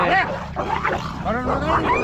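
Several dogs bark and whimper in a cluster of high yelps and whines, fairly close, with traffic noise underneath.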